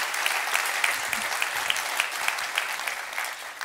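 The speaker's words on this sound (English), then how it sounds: "I want the team back home to receive that applause." A lecture audience applauds, a dense, sustained clapping from many hands that stays steady and loud before tapering slightly at the end.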